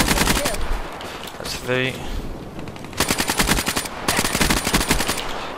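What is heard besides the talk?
ICR gun firing in a video game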